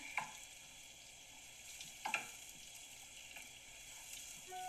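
A piece of butter melts in a pan while being stirred for brown butter banana bread, giving a soft steady sizzle with a few sharp utensil scrapes and taps.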